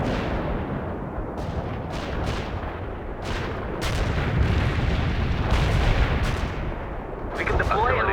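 Artillery fire in the RTS game World in Conflict, a steady rumble of distant booms and explosions over a dense battlefield bed, with louder blasts and crackling bursts recurring throughout.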